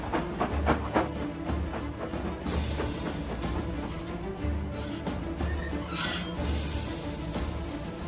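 A train rolls steadily along rails, its rumble continuous with rhythmic wheel clacks and brief metallic squeals near the end.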